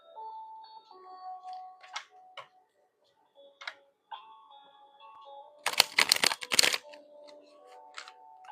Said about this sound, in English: That was a nice shuffle right there.